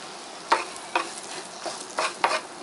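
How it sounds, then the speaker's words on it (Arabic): Carrot slices being stirred lightly in a pan with a little oil and salt, several brief scraping stirs with a soft sizzle underneath, close and fairly quiet. "ناخد بقى شرايح الجزر، تقليبه خفيفه كده بس"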